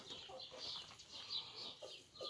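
Hens clucking in a farmyard, a run of soft, repeated bird calls of moderate loudness with a faint rustle behind them, and no talking.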